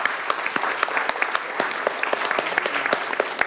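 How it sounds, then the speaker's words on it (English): An audience applauds a panel of speakers at an event, dense crisp clapping that holds steady and fills the room, with individual sharp claps standing out. "How about a round of applause for our panelists?"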